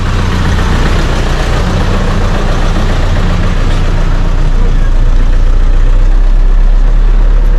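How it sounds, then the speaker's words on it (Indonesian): A 3/4-size bus engine idles loudly and steadily at a stop bound for Pangandaran, a constant deep rumble filling the whole stretch with no break. "Ini bus 3/4 yang menuju ke Pangandaran."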